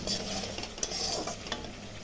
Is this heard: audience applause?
no